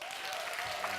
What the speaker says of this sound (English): can we have a round of applause for Jon